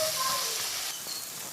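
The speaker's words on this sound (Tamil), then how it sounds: "தக்காளி, கொத்தமல்லி காம்பு நல்லா வதங்கிடுச்சு." A soft, steady sizzle of tomato and coriander stems sautéing in a pan for rasam, with a faint clink right at the end.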